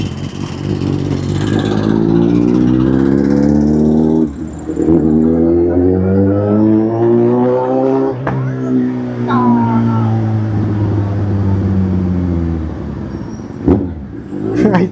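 A Kawasaki Z800 motorcycle engine runs loudly and close by with a strong, steady tone that rises and falls in pitch across several revs.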